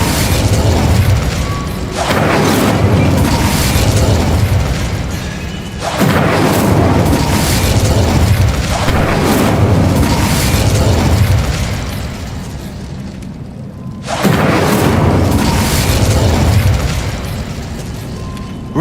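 Incendio fire spell blasts in Hogwarts Legacy, roaring as loud, sustained booming bursts of fire that repeat several times with short gaps, close and dominant over everything else.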